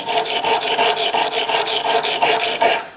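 Steady back-and-forth rasping of a knife tip being ground on a sharpening stone to re-profile a dull, rounded tip, with about a dozen even strokes in a quick rhythm, close and fairly loud with no talking.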